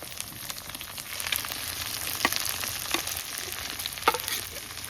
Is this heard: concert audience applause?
no